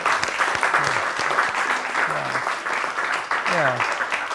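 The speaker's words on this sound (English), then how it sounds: "Yes, let's clap." An audience at a live show at Mystic Journey claps in a steady burst of applause lasting several seconds, with a few voices talking over it.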